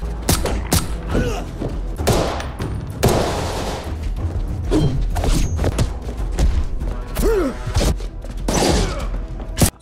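Gunfire in an action film battle scene, loud repeated shots and bursts with heavy thuds and mechanical clatter, dense and close throughout with no clear speech.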